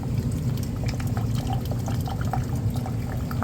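Water flowing steadily from a humidifier's outlet after its solenoid valve was replaced, a continuous close rushing and trickling wash with faint drips, no talking.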